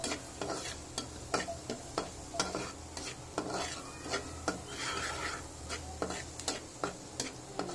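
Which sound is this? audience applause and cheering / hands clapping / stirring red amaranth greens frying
stirring red amaranth greens frying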